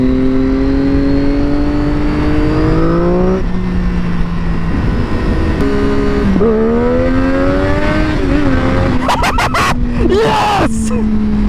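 A Triumph Daytona 675 motorcycle engine revs hard and steadily while the rider pulls a small wheelie, its pitch climbing and dipping in a loud, continuous whine with a few sharp bursts near the end.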